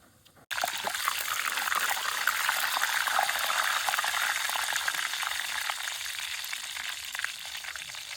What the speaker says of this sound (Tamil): கடுகு, வெந்தயம் மூண்டையும் போட போகிறோம்.